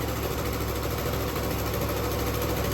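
A 1975 Lincoln Continental engine runs with a fresh spark plug, giving a steady, even drone that holds without change, close and fairly loud, with no talking.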